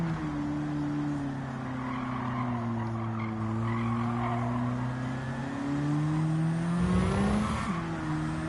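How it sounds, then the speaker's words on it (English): JUN Auto Mechanic S15 Silvia engine drones steadily in a racing video game while the tires slide and scrub through corners, a continuous loud sustained tone shifting in pitch as the car drifts. "This car slides around and it's not very maneuverable."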